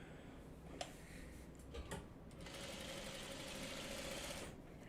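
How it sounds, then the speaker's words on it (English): A sewing machine stitching a small scrap piece onto a quilt block, a few scattered ticks and then a steady whirring, rapid chatter of the needle running for several seconds, close and without talk. "I'll just sew on one last little scrap piece here"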